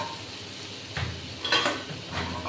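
Potatoes and dried chillies in a kadai are stirred over a soft background sizzle, with two or three brief scraping and clattering strokes of the spoon against the pan.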